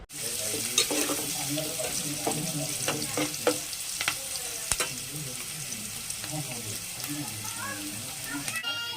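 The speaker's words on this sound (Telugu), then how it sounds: "ఉల్లిపాయ పచ్చిమిరపకాయ సిమ్లో పెట్టి ఎరుపు రంగు వచ్చేదాకా వేగనివ్వాలి" Onions and green chillies frying on a low flame in a pan, with a continuous close sizzle and repeated spatula scrapes and taps, a louder clatter just before the end.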